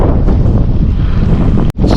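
Strong gusty wind buffets the microphone during an uphill bike ride on a Northern Ireland morning, a loud continuous low roar with one brief sharp dropout near the end.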